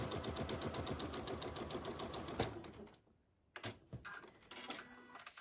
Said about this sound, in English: I'm going to sew those 2 right sides together, a 1/4 inch